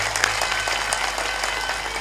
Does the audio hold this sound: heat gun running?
no